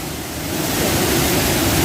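Steady, dense rush of falling water from a waterfall at Pagaralam, a continuous broadband roar that swells slightly and holds loud and even, with no voices over it.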